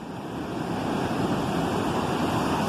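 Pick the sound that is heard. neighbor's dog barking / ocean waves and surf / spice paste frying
ocean waves and surf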